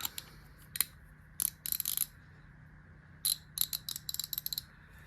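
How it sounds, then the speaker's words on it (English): An Indestro ratchet wrench, part of a new-old-stock American tool haul, clicks in short rapid bursts of fine metallic ticks, with a few pauses between turns, close and fairly quiet. "It's actually a pretty nice sounding ratchet."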